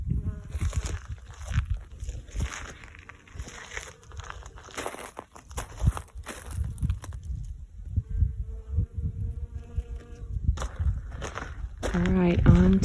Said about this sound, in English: As I walk past my rosemary, I can hear the hum of the bees.